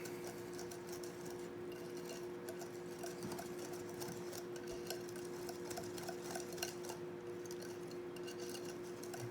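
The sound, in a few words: mixing pancake batter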